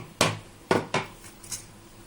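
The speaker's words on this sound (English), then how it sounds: "now let's take out the lid and check out" A metal lid clanks against a cooking pot of steamed jackfruit seed biryani, with four or five sharp, close knocks spaced irregularly over two seconds in a quiet kitchen.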